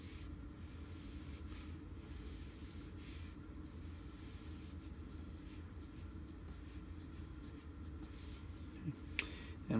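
A colored pencil sketches light horizontal wispy strokes across paper for clouds in an architectural drawing, a soft steady scratchy rubbing that continues quietly throughout, with a couple of brief sharper ticks near the end.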